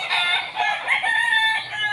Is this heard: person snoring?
no